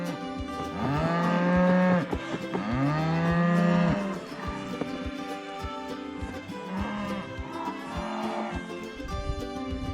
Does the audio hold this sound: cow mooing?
yes